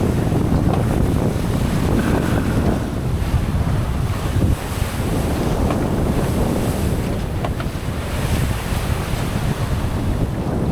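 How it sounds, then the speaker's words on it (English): Wind and waves roar around a sailboat under way on the South Pacific toward Tonga in bumpy, rough conditions: a loud, continuous rush of surf and sea spray with heavy wind buffeting on the microphone. "Nice gentle South Pacific sailing. When it's this bumpy and rough"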